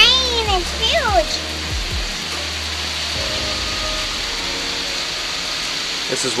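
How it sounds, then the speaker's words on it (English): Steady, dense rain hisses throughout while excited voices call out over it at the start. "Wow, that's huge. That rain is huge."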